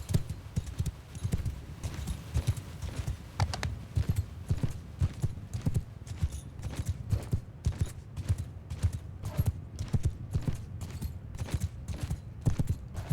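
Rapid, continuous clopping of many hooves pounding together, like a cavalry charge of horses in the video game Mount & Blade II: Bannerlord, loud and dense with no talk.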